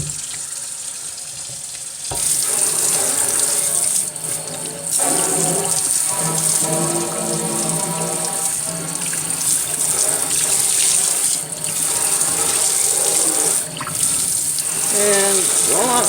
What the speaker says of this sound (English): Rinse that all out real good.